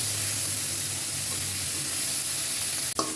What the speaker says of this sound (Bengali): এখন একটু হালকা করে ভেজে দিচ্ছি।